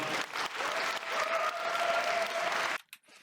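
Wedding guests give the groom a big round of applause: loud, dense clapping with a sustained tone above it for nearly three seconds, then it cuts off abruptly into near silence.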